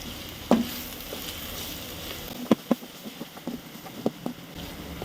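A spoon scrapes and stirs through two spoons of chili powder in a hot frying pan for a dried fish curry, with a light sizzle and a few sharp clicks of utensil on metal.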